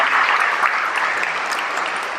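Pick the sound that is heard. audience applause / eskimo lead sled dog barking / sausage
audience applause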